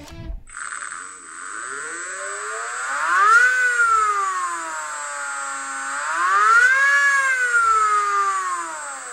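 A prototype axial flux synchronous motor spins up to speed, giving a loud, steady whine with a strong pitched tone that rises and falls twice and sits over a constant high-pitched hiss.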